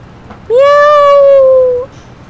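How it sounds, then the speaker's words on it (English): A cat meows once in a video game, a single clear, sustained, slightly rising meow lasting over a second, close and loud with no other sound around it. "Meow."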